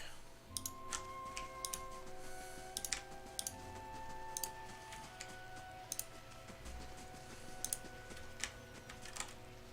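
Computer keyboard keys tapped while playing Pillars of Eternity, scattered sharp clicks in small bursts and single presses, close but quiet, over faint game music.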